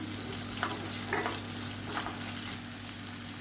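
Onion and tomato sauté in a pan for a bottle gourd chutney, a quiet, even sizzle with a few soft stirring scrapes and a low steady hum beneath, no talking.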